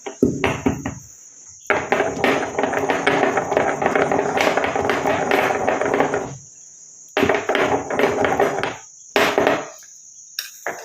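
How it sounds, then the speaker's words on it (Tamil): Roasted tamarind seeds are pounded in a stone mortar, giving rapid, loud, close thudding and knocking strokes in long bursts separated by short pauses, over a steady high insect drone. "இந்த நல்லா வறுத்து வச்சுருக்க புளிய விதையை நம்ம ஒரு இடிக்கல்ல போட்டு இதை இடித்து எடுத்துக்கலாம்."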